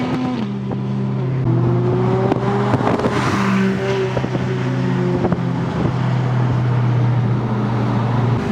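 A modified Audi R8 V8 with upgraded exhaust rumbles loudly nearby with steady low harmonics, revving and shifting pitch as the car drives past on a Scottish road, with wind buffeting the microphone.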